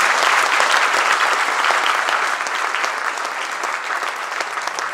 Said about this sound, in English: please give Mr. Huang a round of applause